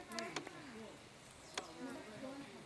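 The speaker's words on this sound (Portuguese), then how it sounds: "Olha, gente, aqui tá cheio de pernilongo." Mosquitoes buzzing close by in a rural farmhouse setting, a thin wavering whine drifting in and out along with a few brief clicks, faint overall.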